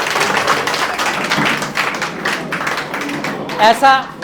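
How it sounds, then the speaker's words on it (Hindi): A loud round of applause from a seated audience at an RCM success-story gathering, dense clapping running throughout with a voice speaking over it and a few louder claps near the end. "एक बारी जोरदार तालियां, बैठ जाइए अपनी जगह पे।"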